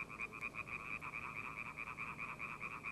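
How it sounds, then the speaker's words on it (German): Frogs croaking in a swamp, a rapid, steady, pulsing chorus of repeated croaks, fairly faint and continuous with no voices. "verwandelte die verzweifelte Leto die Menschen zur Strafe in Frösche, auf ewig dazu verdammt, im morastigen Sumpf zu quaken"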